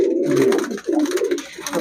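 Pigeons coo from inside a cage at a pigeon seller's, a steady, close run of soft throaty calls with a brief dip partway through.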